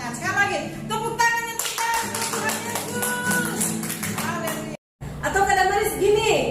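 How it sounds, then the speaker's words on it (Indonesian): Children at an online church Sunday school clap their hands, the sharp claps running beneath loud singing and a leader's voice, with a short silent gap near the end. "Sekali lagi, tepuk tangan."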